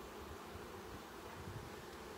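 Honey bees buzz in an open hive colony, a dense, steady hum of many insects close by with no talking over it.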